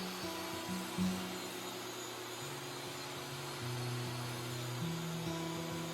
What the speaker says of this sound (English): Now that I've got a straight reference edge on my boards, I can rip them down into 2-inch wide strips.